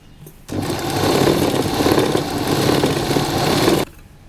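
Sewing machine running a continuous seam on an A-line jacket dress, a loud steady motor hum for about three seconds, starting and stopping sharply, with no talk.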